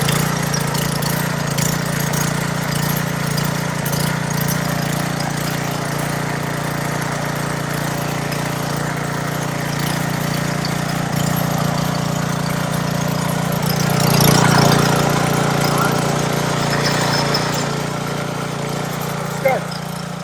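A Ryobi gas pressure washer engine runs steadily after a pull start, a loud, close, continuous small-engine drone with a slight swell midway and a person talking over it.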